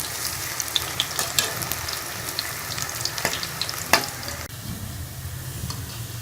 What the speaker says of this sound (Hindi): हमारे पकौड़े फ्राई हो गए